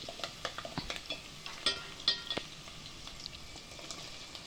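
Crushed garlic frying in a pan for a liver pepper dry, with a soft steady sizzle broken by several light scraping stirs and utensil taps.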